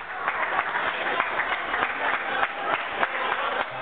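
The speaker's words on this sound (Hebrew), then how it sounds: "ואני רוצה שתמחאו לו כפיים, כי מגיע לו" A party audience claps for Guy Poskiz, with steady, dense applause from a moderate-sized crowd filling the room at medium loudness and no break.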